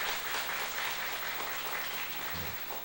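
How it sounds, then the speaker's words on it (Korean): Congregation applause during a Sunday morning church service, a soft, steady wash of clapping heard from a distance at low volume. "우리 크게 환영 한번 박수 한번 해주시기 바랍니다"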